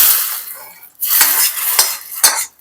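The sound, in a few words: pouring ghee mustard seed tempering into rasavangi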